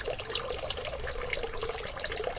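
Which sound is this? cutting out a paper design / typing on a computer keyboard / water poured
water poured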